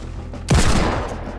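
A single sharp gunshot in Fortnite erupts abruptly, loud and close, with a booming low thump and a decaying tail that fades over about a second.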